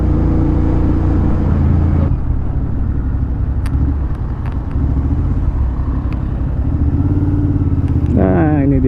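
Motorcycle on a solo touring ride along Java's Pantura coastal road toward Cirebon, its engine droning steadily and loudly throughout with road rumble and wind, the pitch rising briefly near the end as it accelerates.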